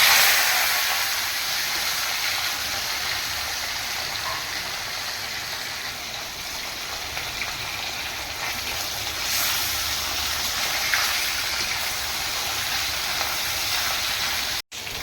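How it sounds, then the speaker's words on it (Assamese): A steady sizzling hiss of fish frying in a wok for a fish curry with elephant apple and mustard, constant and fairly soft, with one brief dropout near the end. "মাছখিনি প্ৰায় ভজা হৈ গৈছে মোৰ।"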